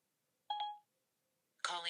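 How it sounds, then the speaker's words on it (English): An iPhone on a Spyder RT motorcycle mount places a hands-free Siri phone call: a short electronic chime, a pause, then a tone burst that merges with a synthetic voice speaking. "I'm just going to call my wife"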